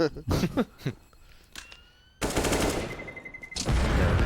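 Rifle and automatic gunfire bursts erupt in a professional Counter-Strike match on the Overpass map, with rapid loud shots and a firefight under an excited caster's commentary.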